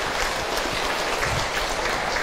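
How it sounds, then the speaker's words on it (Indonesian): Listeners at a religious talk applaud a woman who has just shared her story, a dense, loud burst of clapping that carries evenly through the short moment. "Tepuk tangan buat bunda yang sudah bercerita."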